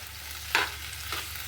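Half-ripe papaya stir-fried in a pan, with two short scraping stirs of a spatula over a low, steady sizzle.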